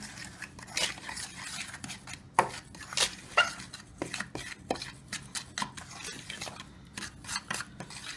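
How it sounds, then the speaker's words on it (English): A fork or whisk stirs a bath fizzy mixture in a bowl, breaking up lumps with a steady run of close scraping, tapping strokes against the container. "you take like a fork or a whisk, and you just get all the big chunks and lumps out there"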